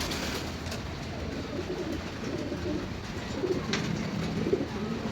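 Pigeons coo softly in a large walk-in cage, low repeated calls under a steady background hiss, growing a little busier toward the end, with no talking.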